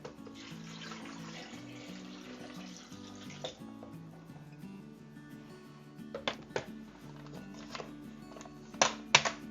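Two cups of pineapple juice poured into a blender jar, a soft trickling stream under faint background music, with a few light clicks and taps near the end.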